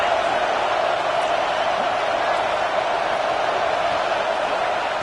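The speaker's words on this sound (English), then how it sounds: "here comes the noise. This crowd is trying to inspire this defense to make a big red zone stop." Steady roar of a large American football stadium crowd during a red zone defensive stand, a dense continuous wash of cheering and noise with no break.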